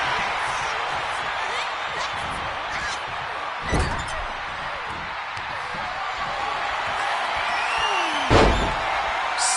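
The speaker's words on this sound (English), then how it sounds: "Slamming their opponent into place." Wrestlers slamming onto the mat at a WWE event, two heavy booming thuds a few seconds apart over a constant loud arena crowd roar.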